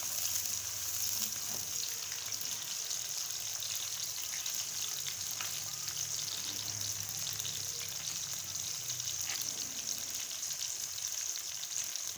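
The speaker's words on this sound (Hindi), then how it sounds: "प्याज ऐड कर रहे हैं। और प्याज को जो है वो ब्राउन कर लेंगे।" Chopped onions frying in a pan while cooking kachnar qeema, a steady soft sizzle that holds evenly throughout with no talk over it.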